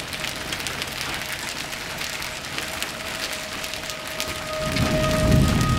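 Heavy rain pours steadily during a thunderstorm in Billings, Montana, with a loud continuous hiss of falling water and a deeper rumbling swell building near the end.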